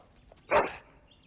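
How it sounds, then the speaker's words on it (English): A single short, loud bark from a dog in the fantasy game Dragon Age: Origins, standing out alone against a quiet background. "Bloody dog."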